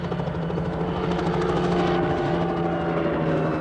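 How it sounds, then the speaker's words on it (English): Helicopters fly overhead at a Mauritius Independence Day rehearsal, a loud, steady rotor thrum and engine whine that holds for the whole stretch with no voices heard. "I am here purely to see what effect the blast from these helicopters will have on the public on the day itself."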